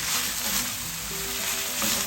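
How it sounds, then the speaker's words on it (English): Onion sizzles in hot oil in a pan, a steady, dense frying hiss that holds at an even level throughout with no talking. "just fry that until it's fragrant. And I'm gonna add some onion."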